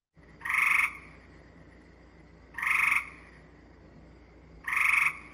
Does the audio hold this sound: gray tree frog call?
yes